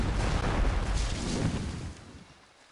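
Ship cannons fire in Port Royale 2 as a rumbling, booming volley. The heavy blasts blur into one rolling roar that trails off over a couple of seconds, with no voices.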